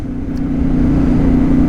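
CFMOTO 450MT motorcycle pulling steadily in fourth gear, a loud, even engine drone that swells slightly as it accelerates with no talking.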